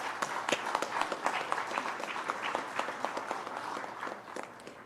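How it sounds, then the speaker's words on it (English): Warm audience applause at a management convention welcoming India's former Foreign Secretary to the stage, a steady mass of claps from a sizeable crowd at moderate level with no speech over it. "Please join me in welcoming him with warm applause."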